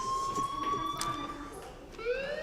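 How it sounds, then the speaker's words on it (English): Fire alarm ringing in the Life is Strange video game, a steady electronic tone holding across the clip with a shift and rising sweep near the end, moderately loud and not under talk. "do you hear that fire alarm? That means you should be outside."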